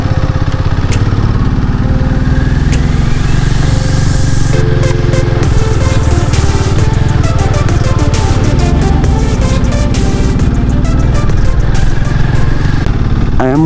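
Motorcycle climbing a steep mountain road toward Bumla Pass near the India–China border in first and second gear, its engine a loud, steady, close drone that continues unbroken throughout, with wind noise over it.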